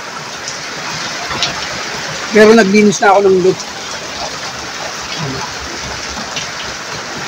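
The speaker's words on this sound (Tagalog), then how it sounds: "Nag-umpisa na yung bagyo." Steady typhoon rain pours down as a constant hissing wash near a pigeon loft, with a voice speaking briefly over it midway.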